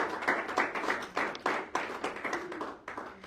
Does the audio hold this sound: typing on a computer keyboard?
no